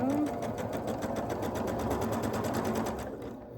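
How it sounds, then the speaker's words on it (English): A sewing machine stitching quilt block fabric runs steadily at close range, its fast, even needle chatter continuing for a few seconds and easing slightly at the end. "I'm going to sew it onto the next piece"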